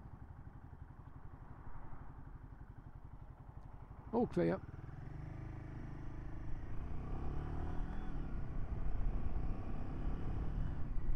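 A 2024 Royal Enfield Himalayan 450 motorcycle engine idles with a low, steady rumble, then revs gradually louder; a voice speaks briefly partway through.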